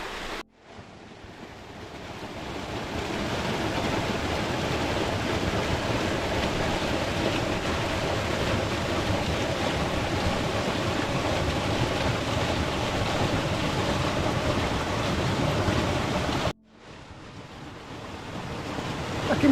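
Water from a waterfall pours into a deep mountain pool on the Raise Beck ascent near Dunmail Raise. The roar is close, loud and unbroken, with a short gap near the end before it rushes back in.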